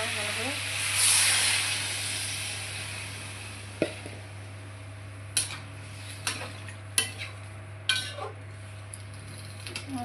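Water poured into a pan of small fish frying with salt and turmeric sets off a brief loud hiss, then a quieter simmer with several sharp utensil clinks against the pan and some talking.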